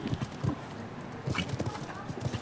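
A show jumping horse's hooves thud on soft arena ground at an outdoor event in a few spaced, muffled beats, faint beneath ambient noise.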